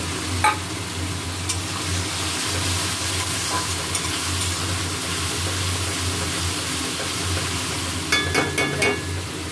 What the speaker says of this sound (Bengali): মশলা কষা হচ্ছে, মশলা থেকে তেল বেরিয়ে এসেছে